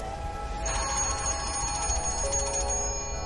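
A telephone on a beach rings in a steady repeated trill, moderately loud and continuous, with no speech.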